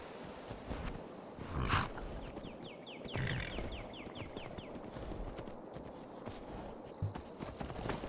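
Horse hooves clip-clopping in the video game Skyrim, faint steady hoofbeats under a soft ambient wash with a thin high tone and a few brighter clicks.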